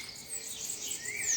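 Small birds chirping outdoors, a steady high twittering with a rising whistled call near the end, fairly faint and continuous with no talk.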